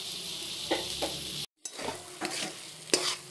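Masala roasting in a pan while the cook prepares a Bihari-style matar nimona, with a steady close sizzle and a few soft stirring scrapes that stop briefly midway.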